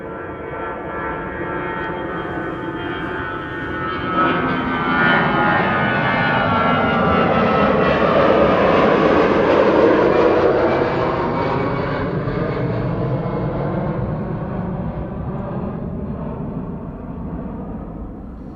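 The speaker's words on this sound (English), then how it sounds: "It is EasyJet flight 22514, an A320." An EasyJet Airbus A320 jet airliner passes at a winter airport departure, its engine roar building to a loud peak midway and then fading slowly, with shifting tonal sweeps as it goes by.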